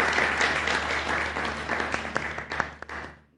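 Applause from the audience at an Eid mushaira greets the poet Yasmeen Hameed, a full burst of clapping that thins into a few scattered, louder claps near the end before fading out.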